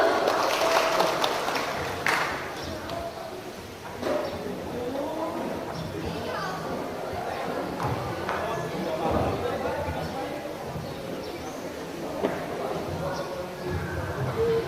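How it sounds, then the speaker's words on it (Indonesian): Scattered audience applause greets a speaker called onto the stage at a talk show, with light clapping heard beneath an announcer's ongoing speech. "Tepuk tangan untuk sahabat Nuril dong"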